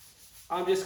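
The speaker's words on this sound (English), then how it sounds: "I got some 220 here on my sanding pad here, and I'm just gonna" After a near-silent moment, a 220-grit sanding pad starts rubbing and scuffing across anodized metal on a 1971 Monte Carlo SS454 in a short, raspy burst.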